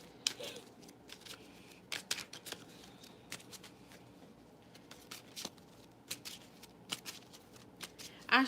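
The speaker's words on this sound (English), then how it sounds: "I'm gonna shuffle all your cards." Tarot cards shuffled by hand close by, a run of quick riffling and sliding bursts with brief pauses between them, fairly quiet and with no talking over them.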